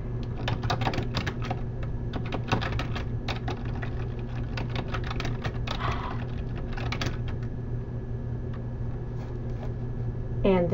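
Steady, rapid clacking of a computer keyboard as homework text is typed, close and continuous over a constant low hum.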